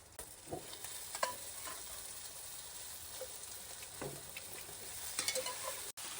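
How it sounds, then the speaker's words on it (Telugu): Boiled mutton pieces fry with onions in a pan over high heat, giving a steady close sizzle broken by scraping stirs of a spatula against the pan. "హైలో పెట్టుకొని ఒక ఫైవ్ మినిట్స్ వరకు వేపేసుకుందామండి"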